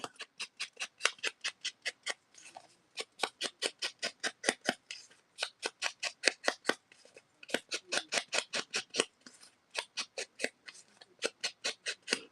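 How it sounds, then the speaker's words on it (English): Small scissors snip paper in quick repeated runs of crisp cuts with brief pauses between bursts. The sound is close and clear, and no voices are present. "She'll cut some paper"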